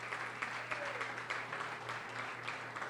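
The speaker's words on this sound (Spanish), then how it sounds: "Démosle una ofrenda de aplauso al Señor." A church congregation claps in praise, a steady patter of applause heard at moderate distance, with a low organ-like tone humming underneath.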